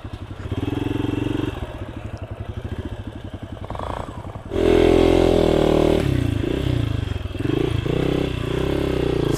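A Hero Xpulse motorcycle rides through forest, its engine running loud and close with a bumpy, clattering rumble that swells into a heavier revving surge midway through.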